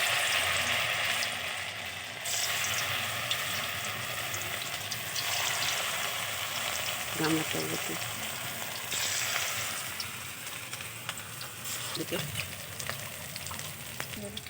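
Prawn pakoras fry in hot oil in a kadai, giving off a continuous close sizzle with occasional scraping and stirring clinks, while a voice talks faintly at times.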